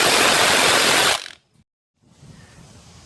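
Bolts coming out around the transmission case of a Honda Civic, apparently with a power tool: a loud, steady whirring burst stops abruptly, followed by a brief silence and then quiet low handling noise.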